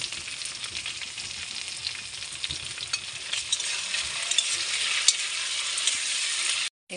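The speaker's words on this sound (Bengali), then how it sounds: "এখন দেব থেতলে নেওয়া রসুন আদা সাথে লঙ্কা দিয়ে ভালো করে এখন মশলাটাকে ভেজে নেব।" Crushed garlic, ginger and chili masala fries in hot oil for a mutton jhol, giving a steady bright sizzle with occasional stirring scrapes and no voices, cutting off abruptly at the end.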